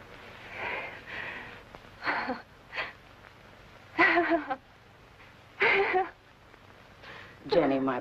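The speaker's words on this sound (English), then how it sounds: "He's breathing better." A sick man breathing after his fever breaks: a few heavy, wheezy breaths come in separate bursts with quieter pauses between them, close and fairly soft.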